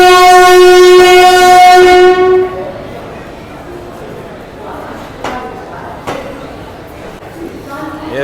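A special train on the Jhansi–Kanpur route sounds a loud, sustained horn blast for about two seconds as it pulls into platform 2 at Virangana Lakshmibai Jhansi station, then the rumble of the arriving coaches follows with a few clanks.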